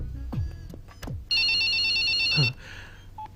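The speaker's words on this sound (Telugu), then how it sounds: "నాకు ఫోన్ వచ్చేస్తుంది" A telephone rings with an electronic ringtone for an incoming call in a film scene. The ring is a loud, steady burst of about a second, framed by soft thumps and whooshes before and a short tone after.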